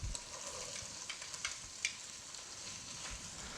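Onions hit hot chili oil in a pan for a fra diavolo, giving a soft, continuous sizzle with faint crackles and an occasional stir, fairly quiet and with no talking.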